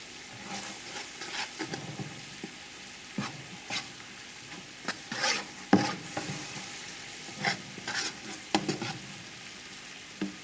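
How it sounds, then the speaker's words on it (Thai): Sugar simmers and caramelizes in a pan for a home-style braised duck, a soft bubbling sizzle punctuated by frequent spatula scrapes and taps against the pan, unaccompanied by speech. "เคี่ยวน้ำตาลไปเรื่อย ๆ ค่ะ เคี่ยวน้ำตาลให้เขาละลายไปเลย"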